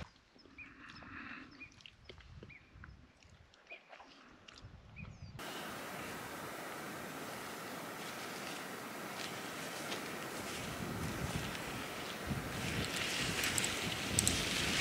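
Wind blowing at a bivouac campsite in the Vercors, a steady loud rushing gust that builds and stays strong over several seconds after a quieter start.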